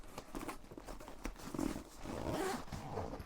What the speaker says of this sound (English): you're hearing a lot of zipping at the moment